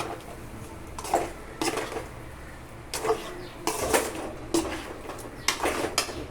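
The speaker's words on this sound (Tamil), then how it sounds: "கடைசியாக கொஞ்சோண்டு புதினா மல்லி தழை போட்டு அப்படியே பூவோட கிளறி" Metal utensil clatters against a pan while food is stirred after fresh mint and coriander leaves go in, several sharp scraping knocks spaced irregularly over faint background noise.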